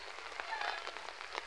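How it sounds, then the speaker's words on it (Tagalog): Rain patters steadily on a garden plot beside a fence, a soft continuous hiss dotted with faint drops and no talk over it. "Nakikita nyo ba may mga ulan?"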